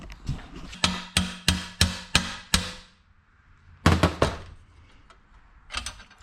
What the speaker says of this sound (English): I need a hammer now.